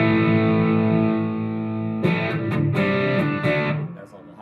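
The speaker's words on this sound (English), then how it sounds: "this is a fatter, more mid-rangey sounding distortion pedal" An electric guitar plays through an MXR Fat Sugar overdrive pedal, giving a thick, mid-heavy distorted tone. A sustained chord rings out first, then several choppy strummed chords follow before fading.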